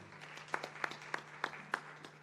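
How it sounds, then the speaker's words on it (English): A small audience at a Caribbean disaster-risk regional conference claps sparsely: about five distinct, evenly spaced claps, quiet and somewhat distant over a low steady hum. "let's give him a round of applause"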